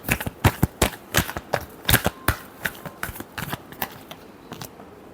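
A tarot deck shuffled by hand, a quick run of close, crisp card slaps and riffles in an uneven rhythm, with no voice.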